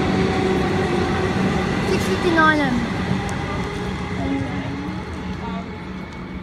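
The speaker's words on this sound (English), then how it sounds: "And there's another train coming." A Siemens suburban train pulls into a Melbourne-area station platform, a steady low rumble with faint squealing brakes, under a station announcement voice.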